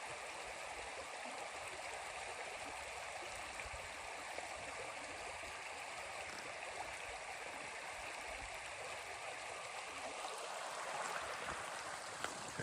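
A small creek flows in Alaskan wilderness, a steady, even rush of babbling water that holds constant throughout with no voices.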